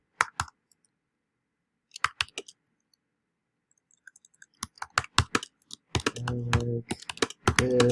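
Computer keyboard keys tap in short bursts while a WordPress post is written, quiet gaps between runs of clicks, then a denser, faster flurry of typing near the end; close and crisp with no voice.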